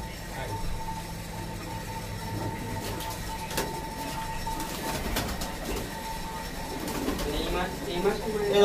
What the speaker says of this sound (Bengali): কবুতরগুলো খুব ছটফটে পায়রা।